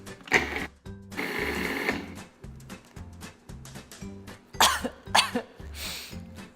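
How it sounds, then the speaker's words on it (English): A food processor pulses sugar with jalapeño chunks, the motor whirring in a few short, loud bursts separated by brief pauses. "we'll just pulse them through the food processor so that they combine and the sugar gets a little bit finer"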